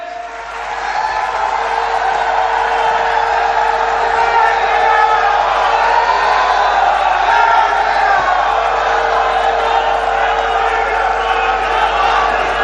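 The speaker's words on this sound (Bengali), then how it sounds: "জোরে হাততালি দিয়ে স্বাগত জানাবেন, মায়েরা উলু দেবেন" A huge political rally crowd in West Bengal welcoming Amit Shah, a loud continuous roar of cheering and shrill ululation that swells in during the first second and then holds steady and dense throughout.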